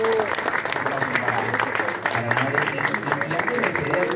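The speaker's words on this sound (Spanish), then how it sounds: "Aplauso." An audience applauds at a poetry festival book presentation, a steady, close burst of clapping with voices and crowd murmur mixed in underneath.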